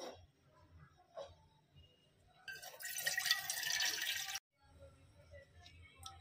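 Water is poured into a pot on a stove for bulletproof coffee, a brief splashing pour of about two seconds between soft kitchen sounds.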